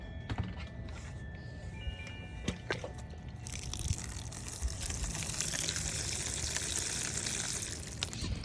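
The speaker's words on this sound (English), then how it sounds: "So I just put some water in there, and hopefully it's gone to the bottom." Water is poured into a container of broken-up material and drips out through holes, a steady close hiss and trickle that grows fuller in the second half, with a few knocks before it.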